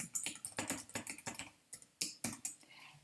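Rapid, steady keystrokes on a computer keyboard as a username and password are entered at a login page, close and fairly quiet, with brief pauses between bursts.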